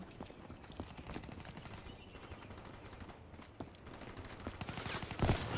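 Rapid gunfire bursts from a video game crackle in a steady, busy stream, with sharper shots standing out toward the end and no talking.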